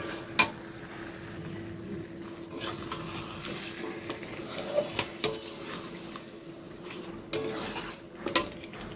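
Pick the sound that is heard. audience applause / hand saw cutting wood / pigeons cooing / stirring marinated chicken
stirring marinated chicken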